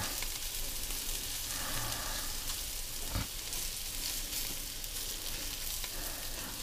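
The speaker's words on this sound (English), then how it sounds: "I'm going to have to deglaze my meatballs" Meatballs sizzling in a pan during deglazing, a dense continuous frying crackle with faint stirring and one brief sharp knock partway through, heard close and alone.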